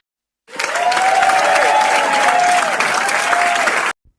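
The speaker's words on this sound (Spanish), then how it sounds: "te despedimos con un fuerte aplauso" A studio audience on a history podcast gives a departing guest a strong round of applause, steady and loud for about three and a half seconds, with a faint cheer, then cut off abruptly.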